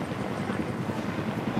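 Helicopter rotor thumping in a steady, dense drone overhead, loud and continuous throughout the short stretch.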